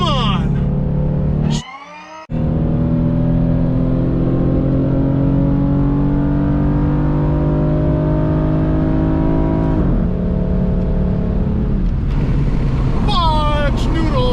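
A 3.5L V6 Dodge Charger drag racing at Orlando Speed World, a loud sustained engine drone climbing through gears with a brief cut near the start and a short shift, other engine noise at the end.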